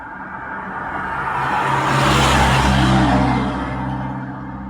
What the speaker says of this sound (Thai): เสียงรถ